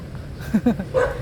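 A few short dog barks and yips close by, over a busy background with some faint voices.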